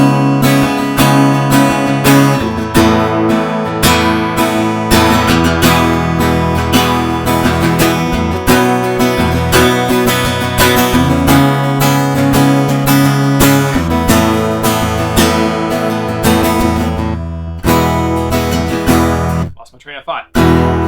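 Guitar strung with D'Addario 9-gauge strings, captured through a room mic blended with the direct recording, playing a dense, loud, continuous passage with strong strummed attacks for about twenty seconds before a brief dropout near the end.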